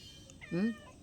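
A cat meows once, close and clear, a short rising-then-falling call over faint room background.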